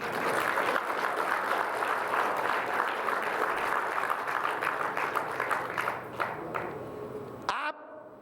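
Sustained applause from a large audience at a major Sanatan religious gathering, dense steady clapping that fills the space and continues for several seconds before cutting off abruptly near the end.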